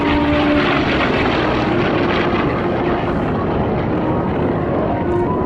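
The loud, continuous drone of an FG-1D Corsair propeller aircraft engine at an airshow, close and steady throughout with no pauses.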